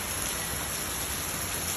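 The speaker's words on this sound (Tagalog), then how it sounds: "Ang lakas ng ulan guys." Heavy rain in Honolulu pours down in a dense, even hiss of drops striking surfaces, loud and unbroken.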